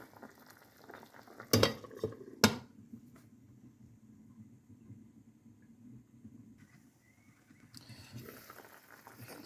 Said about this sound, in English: Curry mutton still cooking away.